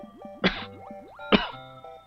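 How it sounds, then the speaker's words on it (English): Two short, sharp coughs a little under a second apart, near and fairly loud, over a faint steady background tone from Super Mario Bros. on the SNES. "I'm all coughing. You got me in a coughing fit."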